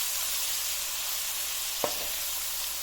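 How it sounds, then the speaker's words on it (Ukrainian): Sliced peppers fry in melting sugar caramel, giving a steady close sizzle with one brief scrape of a spoon as they are stirred. "І тепер це все гарненько перемішуємо."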